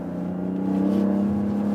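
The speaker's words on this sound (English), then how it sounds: "Engine feels indeed similar. So smooth here out of the corners" BMW X3 or X5 M40i straight-six engine pulling out of a corner, a smooth rising drone heard from inside the cabin that swells steadily louder over a short stretch.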